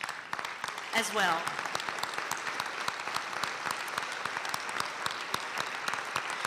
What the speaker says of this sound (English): we all need to give them a round of applause